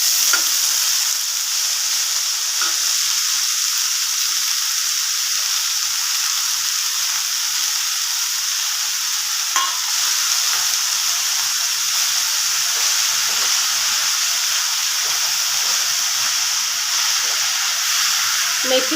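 Garlic and chopped fenugreek leaves frying in oil in a pan, a loud steady sizzle and hiss with faint occasional stirring scrapes, close and continuous.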